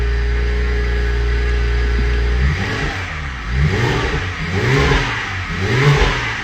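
BMW E92 335i engine idling steadily with a low hum, then revved in several rising and falling surges, loud and close, after an earlier cylinder misfire.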